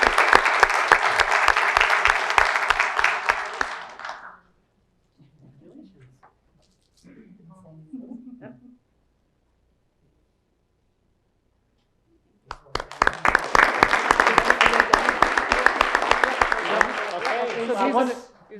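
Applause for students at a school board meeting, two loud bursts of clapping from the room separated by a long quiet gap with a few faint murmurs.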